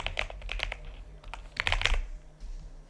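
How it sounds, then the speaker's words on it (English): Close, quiet clatter of fingers typing on a computer keyboard, with quick bursts of keystrokes separated by short pauses across three seconds. "I'll type it in again."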